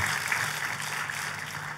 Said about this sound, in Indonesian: Kita kasih tepuk tangannya lebih meriah lagi buat Tuhan kita.